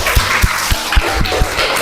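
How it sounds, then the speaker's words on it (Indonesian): Students in a classroom clapping for a group that just finished presenting, a short burst of dense, steady applause with a few louder claps standing out, fairly close. "Kita beri tepuk tangan."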